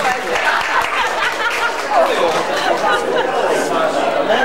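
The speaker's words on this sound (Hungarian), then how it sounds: "Csinálj tapsolit a kedves publikumtól," An audience claps at a wedding party, a steady wash of applause mixed with lively chatter and voices talking throughout.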